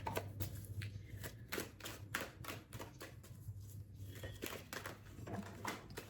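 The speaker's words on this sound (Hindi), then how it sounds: "दो कार्ड्स गिर गए, 1 सेकेंड।" Tarot cards are shuffled by hand in quick, close, crisp riffling bursts with small slaps, and a couple of cards drop during the shuffling.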